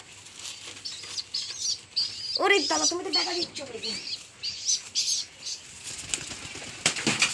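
A pigeon flaps its wings in a few short fluttering bursts close by, while someone talks over and between the flaps.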